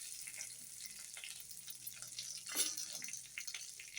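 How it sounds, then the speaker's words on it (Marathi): Curry leaves roasting in hot oil in a kadhai give a soft, steady sizzle and fry crackle, with a brief louder burst partway through, close by and with no talk. "कढीपत्ता छान कुरकुरीत होईपर्यंत भाजून घेतला."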